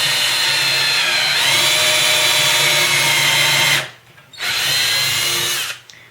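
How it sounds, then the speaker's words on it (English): A power drill whirs steadily as it bores a pilot hole into wood for a road case, running in two loud bursts with a brief pause between them. "I can drill my hole."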